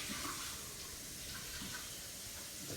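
A steady wash of running water rinses out a cup after a smoothie pour, a continuous mid-level splashing hiss with no talking.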